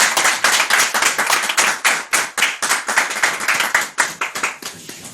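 A room of merchants and police at a security meeting applauds to welcome guests, loud close clapping with clear individual hand strikes in a brisk, slightly uneven rhythm.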